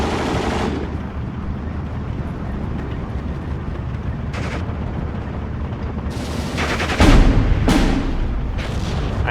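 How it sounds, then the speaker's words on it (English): Machine gun fire in a WWII battle in Steel Division 2, rapid bursts mixed with booming explosions and artillery, one louder blast partway through, no talking. "now the MG's gonna fire over here"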